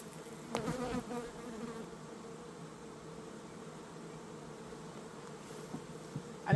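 Honey bees packed into a crowded hive during an inspection give off a dense, continuous close-up buzz, with a few handling bumps near the start and again at the end.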